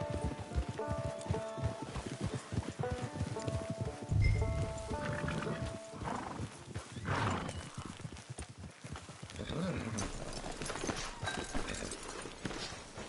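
Horse hooves clip-clop at a steady walking rhythm in a Red Dead western game, fairly close and continuous, with a short whinny partway through and background game music.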